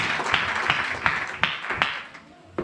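A church congregation claps and applauds in praise of Jesus Christ during a sermon, sharp hand claps landing in an irregular pulse over a dense, murmuring crowd wash.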